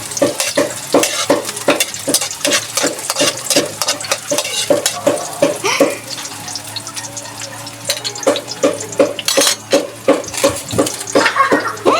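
Bitter gourd (ampalaya) sautéed in a pan with a stirring utensil scraping and clattering in steady bursts over an ongoing sizzle, close and fairly loud, with no talking.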